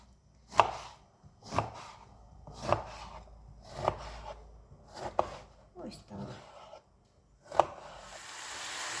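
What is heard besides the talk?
knife chopping vegetables on board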